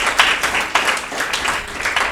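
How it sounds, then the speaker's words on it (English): Audience at a primary school children's quiz contest final clapping, a close, fairly loud burst of hand claps with distinct sharp hits over a brief run. "Please clap, please."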